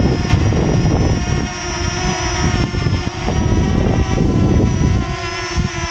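A steady, loud whirring buzz of a Walkera T210 mini drone flying fast nearby outdoors, its high-pitched motor whine holding constant throughout.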